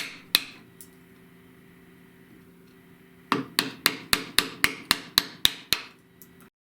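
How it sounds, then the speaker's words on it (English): A chisel cleans out a slot cut with a dovetail saw in wood for a Nordic ski waxing stand. One sharp knock comes early, then after a pause about ten crisp, evenly spaced taps ring out loud and close. "I used a dovetailing saw to cut the edges to the desired depth and then cleaned out the wood with the chisel."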